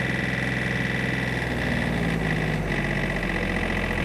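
A 2022 John Deere 3035D compact tractor with a loader runs with its throttle raised to about 2,600 RPM, a loud, steady, close engine drone with a constant mechanical hum and no talking.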